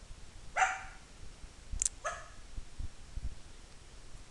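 Two or three sharp dog barks ring out at moderate distance, spaced irregularly over a quiet background, with no speech.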